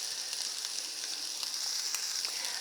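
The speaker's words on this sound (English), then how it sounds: "Now we're going to go ahead and let this saute for a little while." Red and green pepper strips and onions sauté in a pan with a soft, steady sizzle and faint crackles, quiet and close with no voices.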